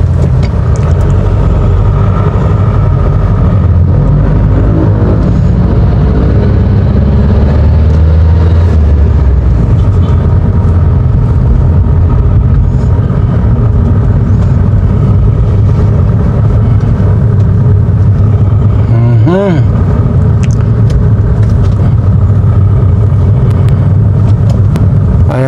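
Car engines hum and idle in steady, loud city road traffic around Tomas Morato in Kamuning, with a continuous low rumble and occasional revving that builds and fades as vehicles pass.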